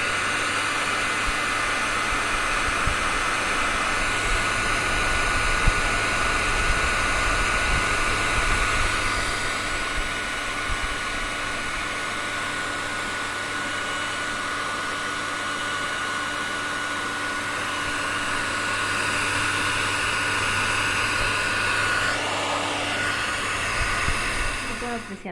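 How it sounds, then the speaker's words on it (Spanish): A heat gun or hair dryer blows steadily and fairly loud, drying one-component or two-component crackle medium on a craft surface, with a continuous whooshing roar that shifts slightly in tone near the end. "vamos a hacer es comenzar a secar aplicando calor para ver cómo se craquela"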